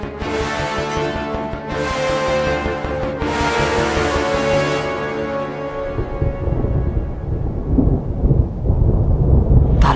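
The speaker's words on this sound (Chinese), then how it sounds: "打雷了！ 我最怕打雷了！" Loud thunder rolls and rumbles through a storm with heavy low booms, a sharp crack, and rain hissing steadily underneath, with no voices.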